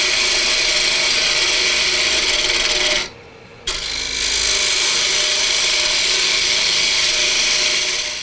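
Bowl gouge hollowing out a cocobolo bowl on a lathe, a steady loud rasping cut that briefly stops for about half a second before the scraping resumes and carries on evenly.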